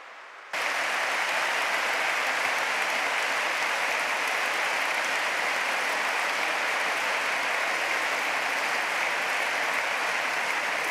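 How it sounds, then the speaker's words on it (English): A warm round of applause for Father Pizzaballa before his talk, dense and steady clapping from a large audience filling the room, starting abruptly and holding at an even level throughout, with no voices over it. "let's give him a very, very warm round of applause before starting"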